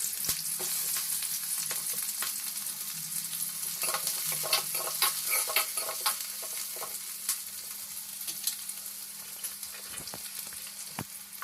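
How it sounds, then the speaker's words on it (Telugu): Onions and green chillies frying in hot oil for a lentil rasam, a steady close sizzle with scattered crackles and pops, no talking. "ఎర్రగడ్డలు కట్ చేసి పెట్టుకొని ఎర్రగడ్డలు వేస్తున్నాను"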